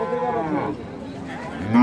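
A dairy cow at a Rajshahi city cattle market gives a loud, close, drawn-out moo. A second call begins just as the clip ends.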